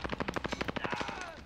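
Rapid automatic gunfire from the video game Warzone, about a dozen evenly spaced shots in a fast burst that fades into a ringing tail.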